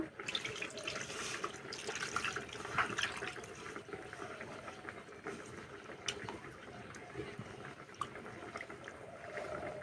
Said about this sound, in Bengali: ভেজে রাখা ডালটা ধুয়ে নেব